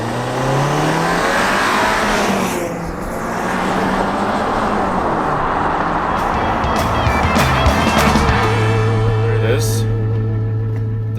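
A 2018 Audi Q7 with a 2.0L turbo launches from a brake-torqued start in a drag race, its engine roaring loud and close as revs climb with rising pitch sweeps and shift changes throughout.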